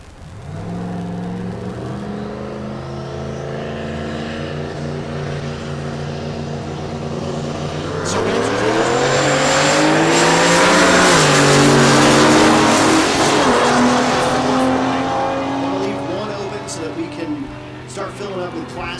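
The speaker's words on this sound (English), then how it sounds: "And that's Floyd Parks in the right lane, the BMW" A BMW drag car launches at Texas Motorplex in Ennis, Texas, during Race Week: a steady engine drone swells into a loud, rising roar partway through and holds near, with an announcer talking over it.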